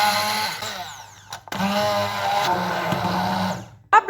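A kitchen blender whirs through banana oat bread batter made with sugar, milk and vanilla, giving a steady, loud motor whine that drops briefly, restarts and then cuts off near the end.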